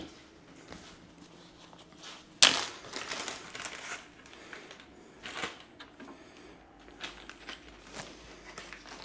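A plastic baggie is handled close by, with scattered soft crinkling and rustling over several seconds, one sharper crunch early on, fairly quiet and without speech.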